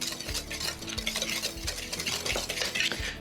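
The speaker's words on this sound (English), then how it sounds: "We just mix all those ingredients together." Dry BBQ rub with paprika and pepper flakes gets mixed in a bowl: rhythmic scraping and stirring strokes, close and steady, with light clinks of the utensil against the bowl and no voices.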